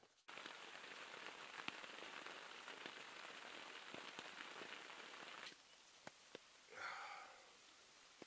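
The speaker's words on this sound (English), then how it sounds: "So you can hear the rain" Steady rain patters on a taut tarp tent close overhead, with occasional heavier drops striking it, then the downpour eases near the end.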